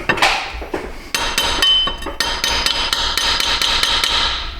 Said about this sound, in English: Hammer time.